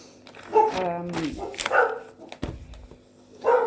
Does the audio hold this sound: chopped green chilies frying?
no